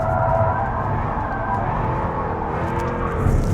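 A Jaguar F-type R coupe is driven hard in third gear, its engine holding a steady, loud, strained roar with a slight rise in pitch throughout.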